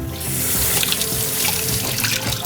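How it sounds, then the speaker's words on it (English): Cold tap water running steadily into a sink to rinse drained, overnight-soaked almonds, a continuous close splashing rush with no talking. "give them a little rinse with some cold water"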